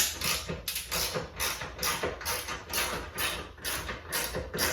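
A hand tool ratchets as it loosens the top muffler of a Cobra slip-on exhaust, with rapid rhythmic clicking bursts repeating about twice a second, close and fairly loud, no talking.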